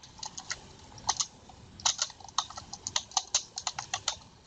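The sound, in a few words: typing on a computer keyboard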